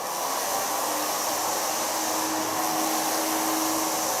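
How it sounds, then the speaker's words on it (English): A hair dryer blowing hair dry during a salon styling with a brush, a loud, steady, close airy roar that holds unbroken throughout. "now I can blow dry your hair"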